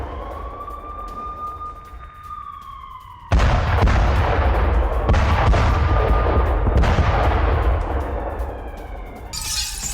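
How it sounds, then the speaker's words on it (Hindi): Multiple rocket launcher in a war zone firing a salvo of rockets, loud roaring blasts that start abruptly and keep rumbling with repeated surges, a high whining tone beforehand. "रूस ने MLRS multiple rocket launcher system से 15 रॉकेट एक साथ दागे।"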